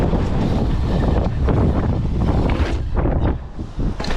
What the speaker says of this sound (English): it's a little bit of a side wind there actually